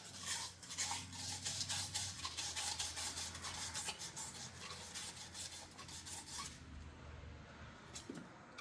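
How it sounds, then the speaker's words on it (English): A burr being rounded off the outside edge of a freshly cut piece during a salvage sport bike rebuild, heard as quiet, steady rasping and rubbing strokes, close by and continuous, with no voice. "Then take a piece, round any burr off on the outside."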